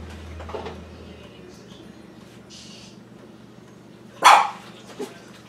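A dog barks in one short, loud burst near the end, with a softer yip just after, over a quiet room with faint voice and some background hum.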